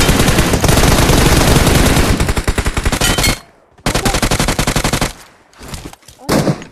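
Rapid automatic gunfire from the mobile battle-royale game PUBG Mobile, loud and close: dense sustained bursts for over three seconds, a short gap, then more clattering volleys and a final burst.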